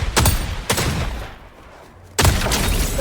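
Gunfire in the video game Fortnite comes as two sharp bursts of shots, then a brief lull, then another loud burst.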